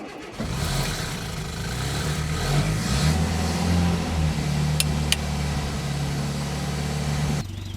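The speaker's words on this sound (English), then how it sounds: "currently running with some choke, just letting it heat up a bit" A 1974 Land Rover Series engine idles on choke after starting, a steady low rumble close by that holds a constant pitch, with two faint ticks midway.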